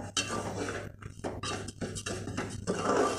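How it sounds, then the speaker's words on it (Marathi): Broken wheat for lapshi roasts in a pan over a low flame while a utensil stirs it, giving close, uneven scraping and metallic clinks in short bursts with brief pauses between strokes; no voices. "करपू नये म्हणून हलवत राहायचं"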